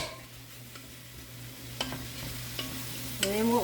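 Chicken sausage going back into a hot pan over medium heat for chicken sausage gravy: a continuous sizzle with a few sharp clicks and clatters, ending in a louder metallic knock.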